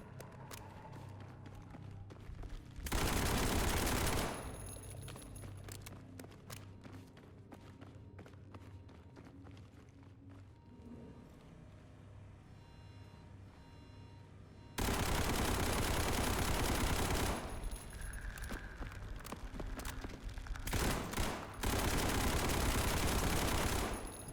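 Long full-auto bursts of gunfire in the video game SCP 5K, one sustained volley early, then a stretch of scattered shots and footsteps, followed by heavier continuous automatic fire toward the end.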